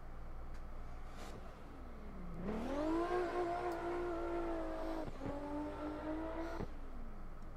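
A race car engine in the Assetto Corsa driving game revs up sharply, holds a high steady drone, briefly dips on a gear change, then carries on before falling away, loud and alone with no talk.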